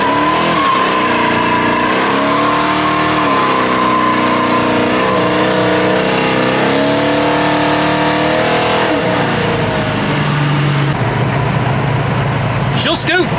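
A 1970 Pontiac LeMans with a 455 engine launches hard on street tires, its loud, close engine revving through rising and falling pitch sweeps as the tires spin and squeal.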